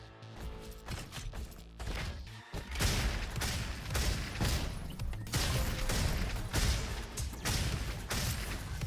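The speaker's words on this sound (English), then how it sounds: "Grab my shotgun." Video game shotgun blasts and heavy impacts crash through a dense, noisy mix of game sounds, repeated booms arriving every second or so over constant rumble.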